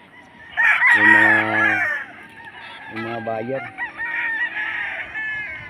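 At a poultry sale, a rooster crows loudly close by while other chickens cluck and call, and someone speaks briefly among them.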